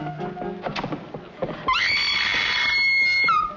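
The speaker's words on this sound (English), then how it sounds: "Do I hear a lady screaming?" A woman lets out a long, shrill scream in an old Hollywood comedy film. It rises suddenly after a short stretch of other sound and holds loud and steady for nearly two seconds before cutting off.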